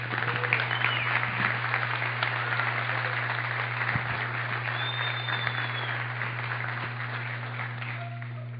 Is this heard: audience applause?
yes